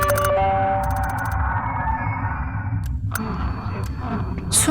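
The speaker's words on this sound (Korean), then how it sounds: "게다가 기이한 종소리가 역사에 울려 퍼지자" An eerie bell rings through a train station in the horror video game Saihate Station, with sustained tonal ringing, scattered ticks and sharp chimes over a low, murky ambient rumble.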